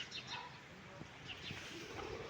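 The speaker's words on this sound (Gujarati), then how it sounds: "આજે અમારે વાડીના વડલામાં લીલા કલરના કબૂતર ટાઈપના પક્ષીઓ 2 દિવસથી" Green pigeon-like birds calling from a banyan tree at a village farm, soft low coos and a few faint chirps at a distance over quiet outdoor background.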